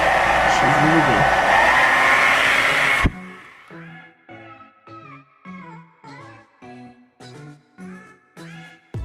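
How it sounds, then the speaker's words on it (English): A handheld blow dryer set to hot roars loudly and steadily at close range while straightening hair, then cuts off abruptly after about three seconds. A voice talks in short bursts after it stops. "me using my blow dryer"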